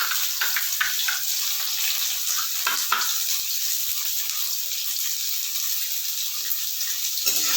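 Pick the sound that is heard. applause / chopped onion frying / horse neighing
chopped onion frying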